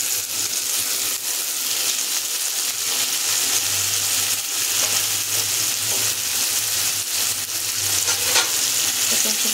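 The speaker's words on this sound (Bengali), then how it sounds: "মশলাটা দিয়েও একটু নাড়াচাড়া করবো, ভাজা ভাজা করবো।" Ground spice paste fries with softened tomato and onion in a pan, giving a continuous dense sizzle with a low hum and occasional stirring scrapes.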